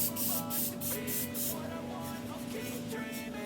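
Country Scent disinfectant spray from Dollar Tree hisses out in several short bursts, a run of close, sharp sprays in quick succession followed by a steadier hissing stretch, with no talk.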